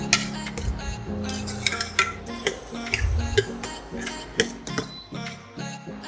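Tomatoes and onions sautéing in a pan for a broad bean curry, with repeated sharp clinks of a spoon against the pan over a low, steady background sizzle.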